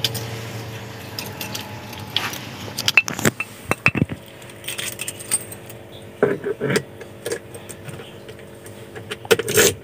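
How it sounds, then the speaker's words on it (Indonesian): Keys jangle and clink as an ignition key is inserted into a manual car's ignition switch, a series of close metallic rattles and taps over a quiet interior hum. "Langsung aja kita masukin kunci kontak."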